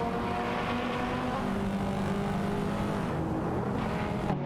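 Race car engines in a racing video game, including a Renault Clio 3 RS and a BMW M5, drone loudly and steadily in close pursuit, with layered whining tones and faint pitch shifts, without speech.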